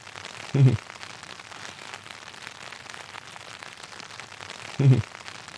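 Steady, even hiss of rain drumming on a hammock tarp overhead while camping, broken by two brief low thumps a few seconds apart.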